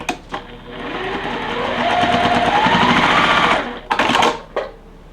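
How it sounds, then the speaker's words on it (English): A sewing machine stitches a quilt block seam at close range, its motor whirring up into a fast, steady run of needle strokes for a few seconds before stopping, bracketed by short clicks and bursts. "Then we're gonna stitch."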